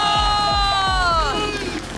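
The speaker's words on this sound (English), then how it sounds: "You can cheer them home, you really can." A crowd at an eventing horse competition whoops and cheers, with loud rising shouts and whistles over rhythmic thudding hoofbeats of a galloping horse close by.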